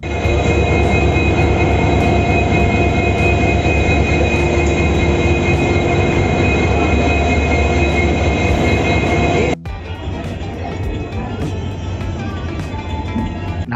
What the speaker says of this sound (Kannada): ಕಾರವಾರ ಎಕ್ಸ್ಪ್ರೆಸ್ ಹೋಲತ್ತೀವಿ ನಾವು.